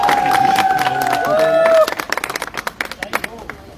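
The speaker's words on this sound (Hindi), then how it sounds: "एक जोरदार तालियां।" Crowd clapping and cheering at a car delivery ceremony for a new Audi A4, first a loud wash of cheers with a sustained tone over it, then sharp individual claps continuing more sparsely.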